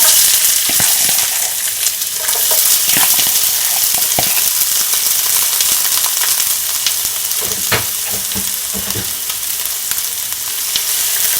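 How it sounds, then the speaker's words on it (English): Onions sauté in a spoonful of hot oil in a pot, a loud, dense, continuous sizzle close by with scattered crackles and utensil taps, no talking. "So now I'm just gonna add some onions."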